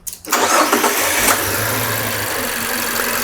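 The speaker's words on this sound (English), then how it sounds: "So if we could start the engine." A car engine cranks briefly and catches, then settles into a steady, loud idle close by during an intake manifold condition test.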